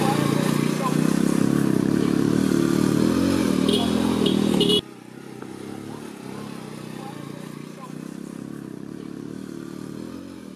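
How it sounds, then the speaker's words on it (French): A motorcycle on a jungle trekking trail toward Ciudad Perdida roars loudly close by for several seconds. The sound cuts off abruptly to a quieter outdoor background with faint distant engine noise. "Dans cette première section, nous croisons régulièrement des motos."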